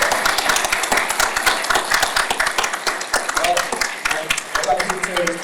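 Dense, steady clapping from a crowd, loud and continuous throughout, with a few voices mixed in near the end.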